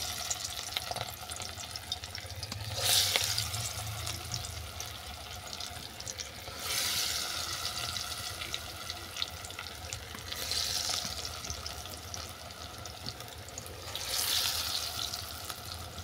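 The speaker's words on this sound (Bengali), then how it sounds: "বড়াগুলোকে আমি বাদামি করে ভেজে নিচ্ছি।" Red amaranth leaf fritters frying in hot white oil in a wok, a low steady sizzle broken by several brief bursts of hissing and splashing as pieces are moved or added, no talking.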